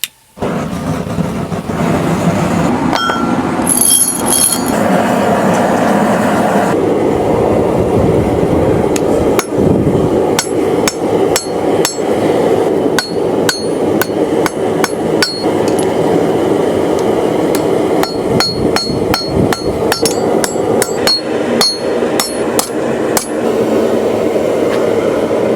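A hammer strikes a knife blade being forged, sharp metallic blows coming in irregular bursts and rapid clusters over a steady background roar, loud and close.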